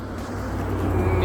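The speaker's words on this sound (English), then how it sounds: "here comes the truck" A truck passing by on the road makes a low rumbling roar that swells louder over a brief moment, close by.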